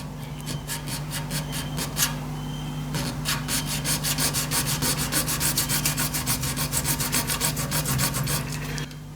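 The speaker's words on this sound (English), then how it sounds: "I'm just trying to put a cut in the back of that tube there" Hand-cutting a slot into the back of a PVC tube, a continuous rasping sawing stroke repeated rapidly and evenly, close and loud, with a short pause partway through.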